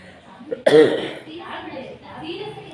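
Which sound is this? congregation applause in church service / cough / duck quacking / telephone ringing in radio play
cough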